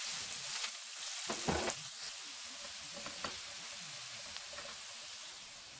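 Garlic cloves sizzle in hot olive oil in a pan, a steady, fairly quiet frying hiss with a few brief stirring scrapes and pops, no voices.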